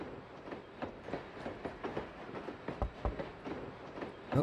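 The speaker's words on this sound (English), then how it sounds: "I'm on a train." Train ride in the video game Potion Permit, faint rhythmic clickety-clack of wheels over rail joints with a soft rumble, no voices.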